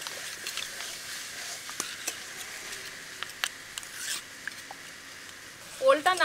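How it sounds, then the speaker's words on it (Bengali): A spoon stirs a paste of turmeric and chilli powder with a little water, giving soft, repeated scraping and rubbing strokes close by, with a brief louder clatter near the end. "এর মধ্যে দিয়ে দেবো সামান্য পরিমাণ জল। খুব ভালোভাবে এবার গুলে নেব।"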